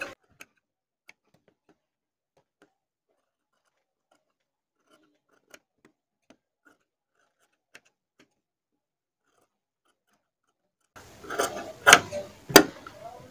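Scissors cutting stiff buckram fabric for a neckline: near silence with a few faint ticks, then a short burst of close, crisp snips near the end.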